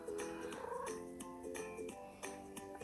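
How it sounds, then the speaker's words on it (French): A video game cat gives a run of short, quiet, tonal meows in quick succession, soft and close with a slight purring, trilling texture between them. "les chats."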